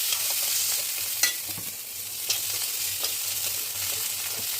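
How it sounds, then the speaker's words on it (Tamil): Chillies and tomatoes sautéing in a pan: a continuous hiss of sizzling oil with periodic scraping strokes of a spoon stirring, close and steady, no voices. "இப்போ வந்து இதிலே இந்த மிளகாயை சேர்த்துக்கலாம்."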